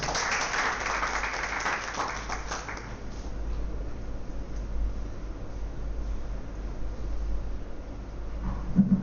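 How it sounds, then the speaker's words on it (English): Audience at a national computing conference applauding a speaker onto the stage: dense clapping for a couple of seconds, then dropping to a soft, diffuse patter that lingers faintly throughout. "let's welcome Dr. Panigrahi to the stage with a big round of applause."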